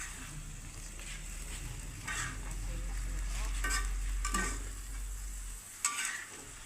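Noodles cook in a pan and are stirred, a soft continuous sizzle broken by occasional scraping and utensil clinks, with a low hum underneath that cuts out near the end.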